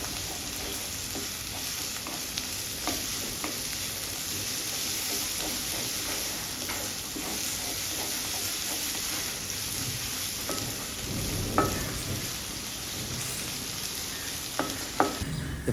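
Red, green and yellow capsicum being stir-fried into vegetable fried rice, a continuous dense sizzle and hiss with scattered scraping and tossing strokes of the spatula in the pan, close and steady throughout.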